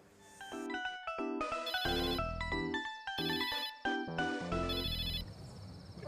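A phone ringtone plays a melodic electronic tune of bright repeating notes, loud and close, filling the moment as an incoming call arrives in a Hindi TV drama scene.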